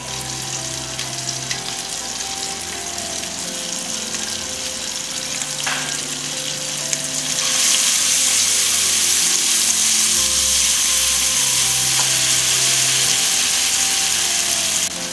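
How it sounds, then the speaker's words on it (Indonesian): Ground spice paste fries loudly in a pan for shredded chicken with basil and tomato, a continuous close sizzle that swells louder partway through, with stirring scrapes and clatter. "Masukkan bumbu yang sudah dihaluskan."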